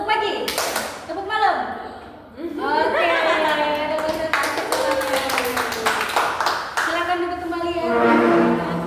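A group of people plays a clap concentration game, clapping in quick crisp rhythmic bursts between chanted instructions from a leader, with a few chuckles and voices mixed in.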